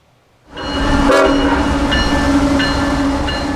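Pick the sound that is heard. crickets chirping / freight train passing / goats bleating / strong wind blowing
freight train passing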